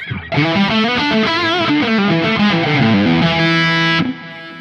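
An electric guitar plays a distorted melodic lead through a Laney amp with the boost switched off, a loud sustained note line with shifting pitches, then cuts off abruptly near the end.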